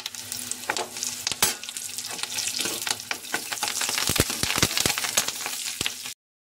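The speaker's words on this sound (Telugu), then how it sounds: "ఇప్పుడైతే కరివేపాకు కూడా వేసుకుంటున్నాం." Curry leaves crackle and sizzle in hot oil for gongura pachadi, a dense continuous frying hiss broken by sharp pops and a few stirring clicks before cutting off abruptly.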